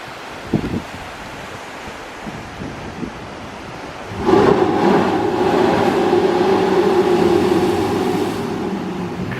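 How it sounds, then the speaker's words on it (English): A sea blowhole blowing on a rugged coast on a Southern Indian Ocean passage: after quiet rumbling surf, a sudden loud rushing roar bursts out and sustains for several seconds. "That's the blowhole blowing, you can hear the noise."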